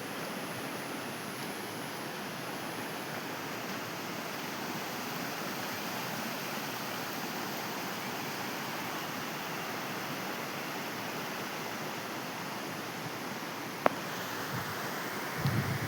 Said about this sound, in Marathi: ही नदी बघा.